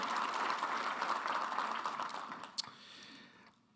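A conference audience applauds the NHTSA administrator during a transportation keynote, a steady round of clapping from a mid-distance crowd that fades out, with a single sharper clap near the end.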